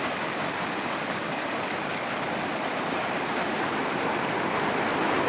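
Swollen village stream in flood after heavy rains, muddy whitish water rushing in a loud, steady, continuous roar close by, with no voices.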